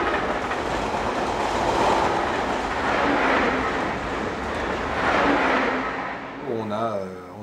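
A TGV Atlantique high-speed train roars steadily through a tunnel beneath Vouvray vineyards on the Paris–Tours line, a loud sustained rushing rumble that swells and fades under a voice.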